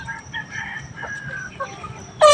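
Chickens clucking and chirping nearby in a quiet setting, ending with a louder, sharp call.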